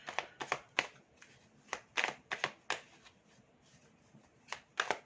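Tarot cards shuffled for a new draw, a series of crisp close riffles and slaps in uneven bursts, fairly quiet, with no talking over them.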